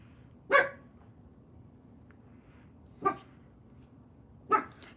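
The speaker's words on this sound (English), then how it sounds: "Don't mind my dog barking." A dog barks three separate times, single loud barks spaced a couple of seconds apart, over a low steady room hum with no talking.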